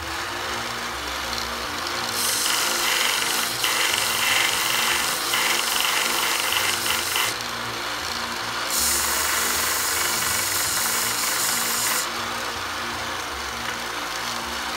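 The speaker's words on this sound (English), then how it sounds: "I'll take the rotary tool with an abrasive bit, and I'll just carve this" A rotary tool fitted with an abrasive bit grinds and carves wood to blend with a bark-textured edge, its high whine steady and loud in bursts with brief pauses and pitch changes between passes, no voices present.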